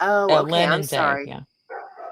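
A neighbor's female dog barks a few times, mixed in with and following close conversational talk between people.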